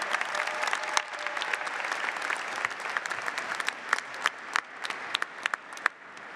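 Large crowd applause for award winners at a university commencement ceremony, a broad steady roar of clapping with individual sharper claps standing out as it thins near the end.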